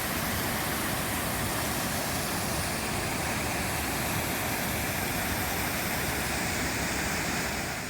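Mountain stream and river water rushing near a village in Azad Kashmir, a loud, dense, unbroken roar of flowing water with no voices.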